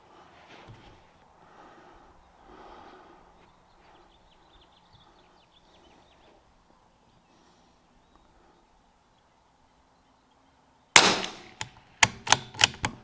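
Five rounds of Lapua Center X 22LR match ammunition fire from a rifle, sharp cracks in quick succession near the end after a quiet stretch with faint handling sounds.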